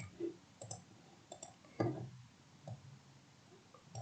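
Computer mouse clicks while starting a deadlock simulation program on a PC: a handful of sharp, quiet clicks spaced irregularly over a few seconds, close by, against a low background hum with no talk.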